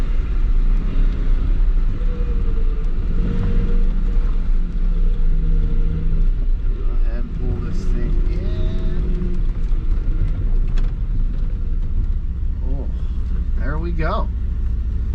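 A Chevrolet S10 pickup with a swapped-in 5-speed manual rumbles along on a test drive, its engine droning loudly and steadily from inside the cab while people talk over it.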